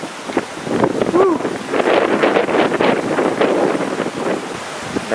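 Strong, rising wind from Hurricane Sandy at night in Bryn Mawr, Pennsylvania, roaring in loud, continuous gusts that buffet the microphone, with a person talking briefly partway through.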